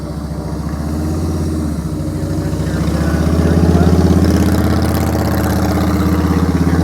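A Harley-Davidson Heritage Softail motorcycle engine runs steadily close by, with a low, rhythmic V-twin throb that swells slightly in the middle and holds a constant idle-like pulse, with no talking.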